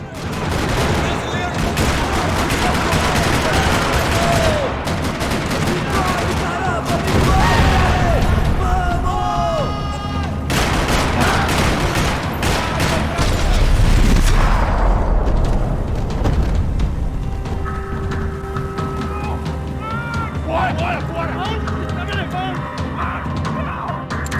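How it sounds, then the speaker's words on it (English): Dense, continuous gunfire crackles and rattles throughout in a parking lot in the video game Max Payne 3, with bursts of automatic fire and booms, loud and close, while voices talk over the chaos. "Another parking lot rattling with gunfire."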